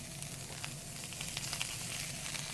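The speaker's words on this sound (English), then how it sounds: "in our skillet, and we're going to cook our onions and our apples a little bit" Onions and apples sautéing in a skillet for pork tenderloin with apples, a quiet steady sizzle with light crackles and a low hum underneath.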